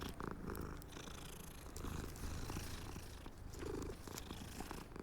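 A cat purrs steadily and close while being petted in the Hogwarts Legacy video game, a continuous soft rumbling drone with gentle rhythmic swells.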